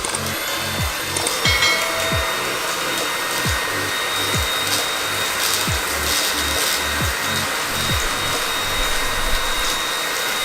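Eureka RapidClean Pro vacuum cleaner with its 2-in-1 bristle attachment runs steadily on carpet, a loud continuous motor whine with a pulsing low rumble, close to the mic and without talking.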